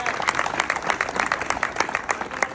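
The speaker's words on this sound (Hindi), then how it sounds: "ये बात ताली बजती रहनी चाहिए यार" Dense applause from a seated audience at a youth employment gathering in Balaghat, a steady patter of many hands clapping continuously, fairly close and loud, with a few voices mixed in underneath.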